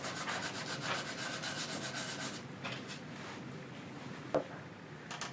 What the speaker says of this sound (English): sand it in.